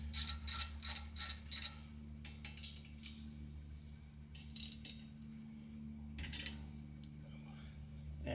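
A 12mm bolt on the front dust shield of a 2023 VB WRX is backed out with a ratchet wrench. Rapid ratchet clicks come in short bursts over a steady low hum, then a few more scattered clicks follow.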